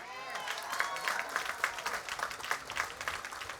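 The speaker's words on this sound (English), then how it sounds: "Graduates, you deserve a round of applause." An audience at the 2013 Merritt College graduation applauds the graduates. Many hands clap in a steady, moderately loud wash with a few sharper claps standing out.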